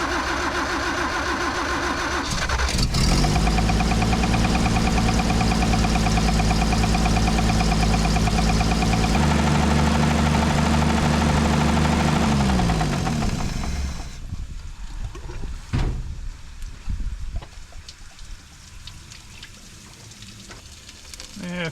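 A 1968 Toyota FJ40 engine cranks and catches, then runs with a loud, steady rhythmic idle for about ten seconds before shutting down, leaving quieter clanks and handling noises in the garage.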